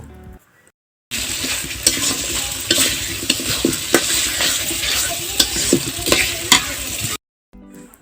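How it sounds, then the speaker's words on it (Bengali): Potatoes are stirred in a pan of fried spice paste for a broiler chicken curry, with a loud continuous sizzle and repeated scraping and clacking strokes of a spatula. The sound cuts in abruptly and stops abruptly. "এখন আমি আলুর সাথে মশলাগুলো ভালোভাবে কিছুক্ষণ নেড়ে নিব"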